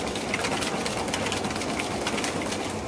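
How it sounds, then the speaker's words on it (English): A whisk works lime cheesecake custard filling in a pan over medium heat, making a steady, close, rhythmic scraping and swishing with faint metallic ticks that continue without a break. "So I'll just whisk this for a few minutes"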